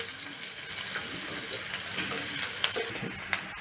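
Onions with two large dried red chillies frying in a pan, a soft continuous sizzle with occasional light clicks and stirring scrapes, fairly quiet and close.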